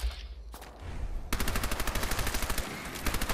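Automatic gunfire in Fallout 4, a rapid steady stream of evenly spaced shots after a short quieter lead-in, loud and close with no talk.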